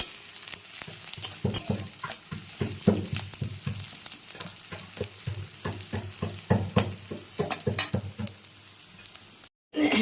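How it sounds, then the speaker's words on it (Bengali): Chopped onions sizzle and fry in a pan while a spoon stirs them with repeated scraping strokes in an uneven rhythm. The frying goes on steadily with no talk, then briefly drops to silence near the end. "পেঁয়াজটা একটু লাল লাল করে ভেজে নেওয়া হচ্ছে"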